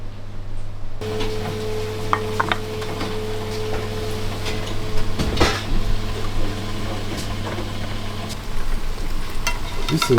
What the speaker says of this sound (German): in der Pfanne mit Fett und Öl